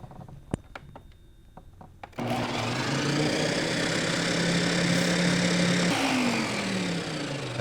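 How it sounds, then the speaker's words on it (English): A few scattered clicks and knocks come first, then a blender starts up loud and close as it blends an orange strawberry protein drink, holding a steady roaring whir before its pitch rises near the end. "That blender seemed to have 3 gears."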